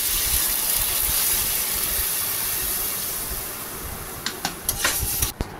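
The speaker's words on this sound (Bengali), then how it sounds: "ভালো করে আলুগুলোকে কষাবো।" Potatoes sauté in a pan with a steady, close hiss and sizzle, and a few sharp scraping stir clicks toward the end.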